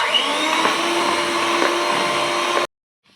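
Electric hand mixer beating sugar for a chocolate chip cookie cake batter, a steady loud whirring drone up close for under three seconds, then it stops abruptly into near silence.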